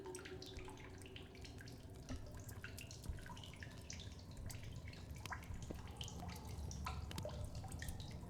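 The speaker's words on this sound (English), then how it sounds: "I hear water." Water dripping and trickling inside a cave in The Solus Project video game, a faint, continuous watery patter with scattered individual drips over a low background rumble.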